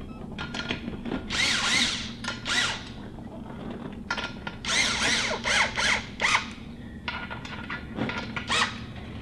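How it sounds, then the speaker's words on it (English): Bolts being run onto a beadlock wheel ring with a power tool, in several loud whirring bursts of a few seconds each, separated by short pauses and ratcheting clicks, close up and with no talking. "I'm gonna throw a couple bolts in it real quick just to get it started"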